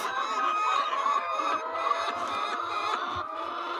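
A flock of laying hens on a poultry farm clucking and squawking continuously, loud and close, many overlapping calls with no pauses.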